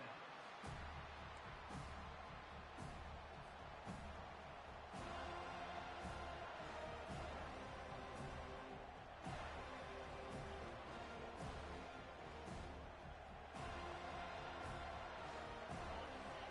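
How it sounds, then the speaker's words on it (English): A video-game stadium crowd in NCAA 25 roars in a steady wash of cheering, with rises and surges throughout. "this crowd trying to help keep them there"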